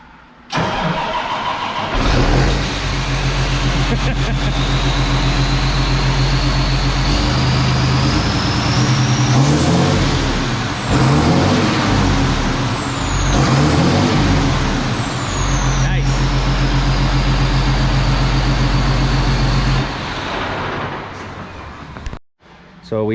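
A tractor with a 30-horsepower engine and straight pipe exhaust fires up and runs loud and close, a low steady rumble swelling into three sharp rising revs near the middle before settling back to idle and cutting off.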